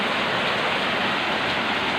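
Heavy morning rain pours down as a dense, loud, unbroken hiss of water striking surfaces during a storm, steady throughout with no other sounds.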